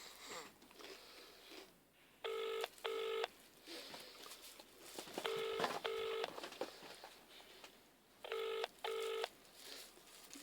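Paired electronic ringback tones repeat three times in a steady rhythm while a phone call rings out, faint and tinny as if heard through a phone, with light rustling between.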